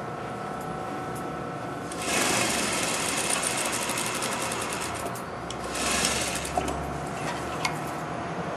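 A sewing machine stitches a garment side seam slowly, reversing at the ends, with a steady close mechanical whir that swells louder in two bursts, alone without talk.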